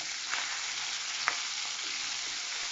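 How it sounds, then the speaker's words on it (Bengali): Pieces of rohu fish sizzle steadily in hot oil in a pan. The frying hiss is soft and continuous, with a few small pops and crackles and no talking. "তো এইভাবে আমি উল্টে মাছগুলোকে ভেজে নেব।"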